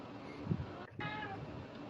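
A house cat gives a short, faint meow close by, one brief call amid quiet room noise.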